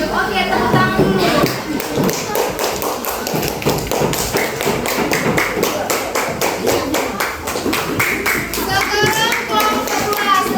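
A classroom of children clapping hands in a quick rhythmic pattern, close and loud, with sharp regular claps over ten seconds and children's voices mixing in at the end.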